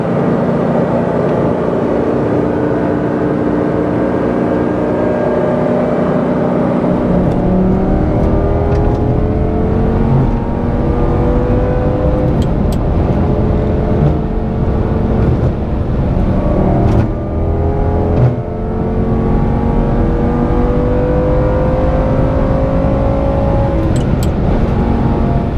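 A new Lamborghini cruises along a highway, its engine holding a steady, loud drone with gently rising and falling revs and constant road roar, with no voices.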